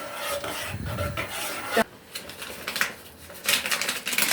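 A utensil scrapes and rubs steadily against a bowl, stirring a garlic, salt and sugar sauce, rasping in irregular strokes at close range, with a sharp clink partway through.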